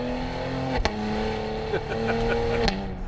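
A 2021 Cadillac CT5-V engine hums steadily with a throaty exhaust tone, pitch stepping up and down as it shifts, close and continuous.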